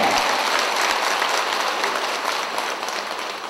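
An audience gives a loud, continuous burst of applause at a Buddhist memorial dharma service, the clapping filling the room and tapering slightly toward the end.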